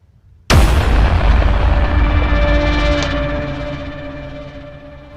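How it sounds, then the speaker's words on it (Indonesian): A supernova star explosion sound effect: one sudden deep boom that bursts in loudly and then rumbles on, fading slowly over several seconds. "akhirnya meledak melalui peristiwa yang disebut nova atau supernova"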